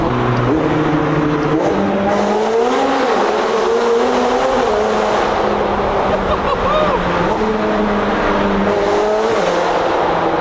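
Loud, close engine of a McLaren 720S sports car revving and accelerating, pitch climbing and dropping through gear changes, continuous for the whole stretch.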